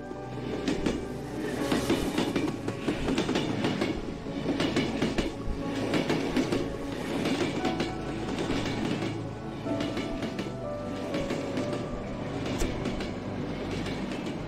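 A train in the video game Cry of Fear rumbles past with rhythmic clickety-clack of wheels on track and occasional metallic squeal, loud and continuous, no voices.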